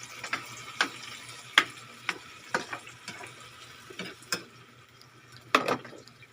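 Vegetables cook in a pan after a splash of broth is added, a soft simmering sizzle broken by sharp scraping stirs every second or so, close and fairly quiet.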